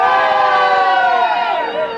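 A party crowd at a saloon-style Christmas event bursts into loud, sustained cheering and whooping, a dense mass of voices that fades slightly toward the end.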